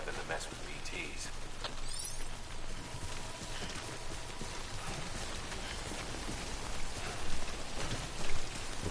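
Rain falling in the video game Death Stranding, a steady dense hiss of downpour with scattered patters, spanning the whole stretch at moderate level with some background game sounds.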